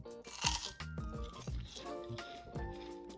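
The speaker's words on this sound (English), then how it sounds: "The cinnamon twist came out great too, just listen to this crunch" Close, crisp crunching of fried cinnamon twists being bitten and chewed, several sharp bites in a row with moist crackle between them.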